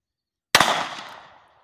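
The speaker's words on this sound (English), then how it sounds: "Okay, two shots." A single sharp gunshot fired at a target cracks out of silence nearby, followed by a fading echo of about a second.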